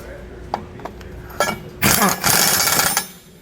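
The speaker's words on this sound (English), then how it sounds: "We're just going to grab our impact again and we're going to run them all back down." An impact wrench runs U-bolt nuts back down on a rear anti-sway bar of a 2021 Winnebago, with a few light metallic clinks, then two loud close bursts of rattling hammering.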